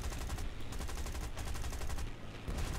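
Aircraft machine guns firing in the War Thunder video game: a dense, unbroken stream of rapid bursts holding a steady, loud level for nearly three seconds, with no voices.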